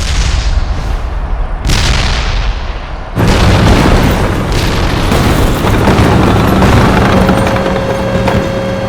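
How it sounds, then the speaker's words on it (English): Artillery fire from a Pacific tank battle: loud, heavy booming blasts, with one big detonation partway through that leaves a dense, sustained roar and rumble of continuing shellfire. "The idea was just smother them with artillery fire, and that's what they did."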